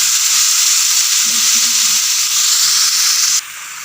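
Tomatoes and onions sizzle loudly in a pan for beef korma, a steady close frying hiss that drops off abruptly near the end.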